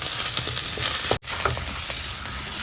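Potatoes frying in hot oil for Gujarati-style pakoda, a loud continuous crackling sizzle with stirring scrapes and one brief cutout partway through.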